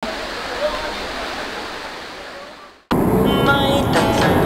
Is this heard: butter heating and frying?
no